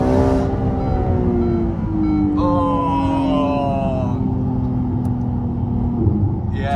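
A Ferrari 296 engine on a spirited drive hums loud and near, its tone sliding up and down as the revs climb and ease off, with a rough road rumble underneath.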